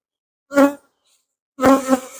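Honey bees buzz near an open hive during an inspection: two short, close buzzing passes separated by silence, each rising and fading quickly.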